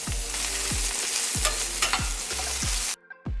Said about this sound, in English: I'm gonna make some sauteed onions and red peppers, and I'm just doing that over some olive oil